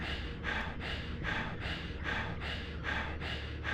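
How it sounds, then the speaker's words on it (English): Heavy breathing in the horror video game Silent Hill 3 comes in steady, rhythmic rasping breaths, about eight in a row, close and fairly loud. "That heavy breathing, though"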